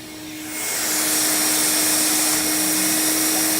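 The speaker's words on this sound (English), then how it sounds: "More vacuuming." A vacuum cleaner kicks on after a brief moment and roars steadily, sucking up bees during a bee removal, a loud, continuous rushing whine that holds to the end.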